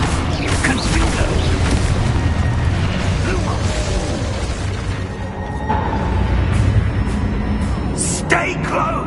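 Spell-blast explosions and magical combat effects from Hogwarts Legacy, a dense, continuous roar of booms and crackling bursts with a brief sharp burst near the end, under a busy game soundtrack.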